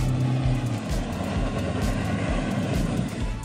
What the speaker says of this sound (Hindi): रेतीले ट्रैक पर धूल उड़ाती, शोर मचाती और फर्राटे भरती गाड़ियां।